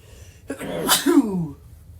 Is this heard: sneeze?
yes